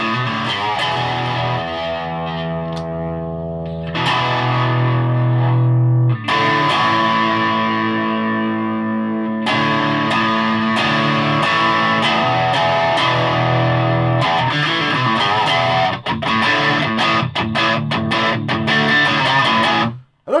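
Antoria electric guitar with modified wiring, played distorted through a valve amp, with sustained chords and riffs, loud and continuous, and short gaps near 4 and 9 seconds.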